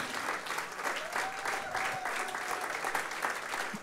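Steady applause from the audience at the 27th accordion festival in Kotlin, Poland, a full rhythmic clapping that continues evenly throughout at a moderate distance, with a faint whistle or voice briefly rising above it.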